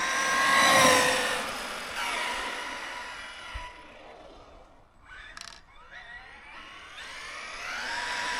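An Arrma Mojave 4S radio-controlled car accelerates at full throttle on a street, its electric motor whining upward in rising sweeps, loud at first, easing off, then winding up again.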